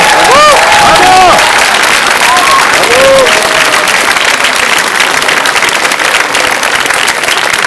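Loud, close audience applause after a dance show performance, dense clapping with a few whoops and cheers early on, carrying steadily to the end.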